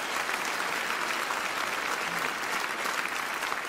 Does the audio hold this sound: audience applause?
yes